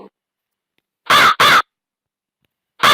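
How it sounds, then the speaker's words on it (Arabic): A crow caws loudly and close by: two harsh caws in quick succession, then a third after a pause, with silence in between. "crow,"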